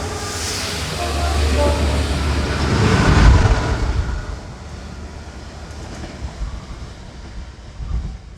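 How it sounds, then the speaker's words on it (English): A passenger train pulls away from Soham Station in Britain, a close rumbling roll along the rails that builds to a peak and then gradually fades into the distance. "This train is taking me back to Ely and back home"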